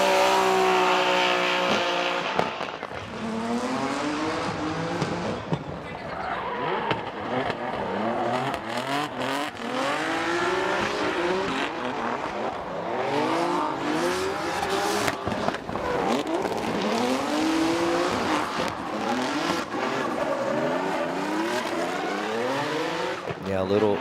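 A drift car at heavy throttle and big angle at Okayama International Circuit during FDJ qualifying screams continuously with revving and tire noise, while commentators talk over the engine throughout.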